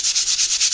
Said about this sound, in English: And then we'll take some sandpaper.